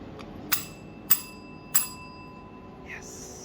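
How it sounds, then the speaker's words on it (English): Hotel reception desk bell in a small London hotel in Pimlico, struck three times in a slow, even rhythm with clear ringing decay, close and crisp, with a brief voice at the end. "Oh, I get to ding the bell."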